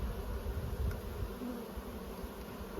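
Honey bees buzz in a dense, steady drone around an opened hive during a check of a queenless colony, a continuous close hum with no voices.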